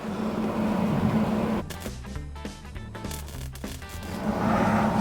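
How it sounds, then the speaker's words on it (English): Welding on the tailgate of a 1962 Dodge D100 pickup, a harsh, steady buzzing crackle that starts after a couple of seconds of workshop hum and holds for about two seconds before fading back to background noise. "I'm gonna throw some weld on it before it moves."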